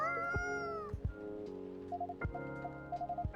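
A cat in the Coffee Talk video game meows several times, drawn-out rising and falling cries with soft chirps between them, clear and close with light background music.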